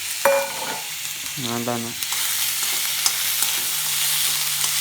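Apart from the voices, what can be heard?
sautéing moth beans (matki) with turmeric in a pan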